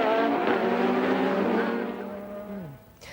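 A 1986 Formula One race car with a Renault 1.5 litre engine screams past at high pitch, its loud whine holding steady and then dropping sharply in pitch as it fades away.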